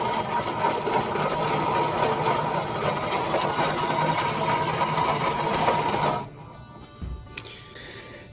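Worn wheel bearing on a 2008 Jeep Patriot, a loud continuous rapid whirring grind like a sewing machine that runs steadily for about six seconds, then cuts out to quiet with a faint thump.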